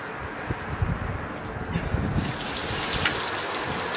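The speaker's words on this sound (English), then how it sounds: "I'm taking a shower on the balcony because I can." Shower water runs steadily on an open-air balcony, a continuous soft hiss and patter of spray that stays fairly even throughout and slightly swells toward the end.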